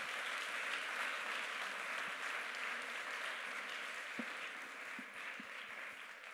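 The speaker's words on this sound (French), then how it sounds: "on peut l'applaudir" Audience applauding after a talk at a public communication conference, a steady wash of clapping with a few sharper individual claps standing out, fairly distant and soft.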